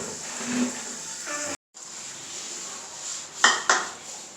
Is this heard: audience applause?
no